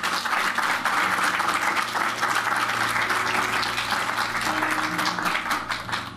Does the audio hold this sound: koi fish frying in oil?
no